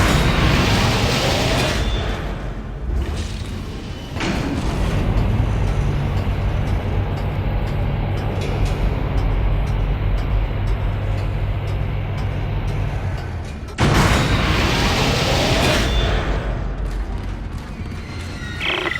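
Heavy rumbling impacts and a roaring din batter a spaceship's exterior in the Dead Space game as asteroids bombard it, with loud crashing surges at the start and again near the end around a sustained low drone.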